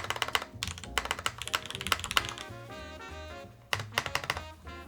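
Rapid keystrokes on the Soleil solar-powered keyboard with stabilizers, close clacky tapping in quick bursts with a deeper thock from a stabilized key partway through.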